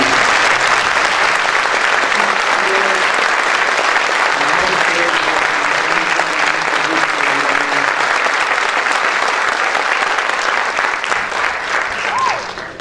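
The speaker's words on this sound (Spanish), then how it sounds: "les vamos a dar un aplauso" A concert audience gives sustained, dense applause for teachers of a symphony orchestra, loud and even throughout, with faint voices mixed in beneath the clapping.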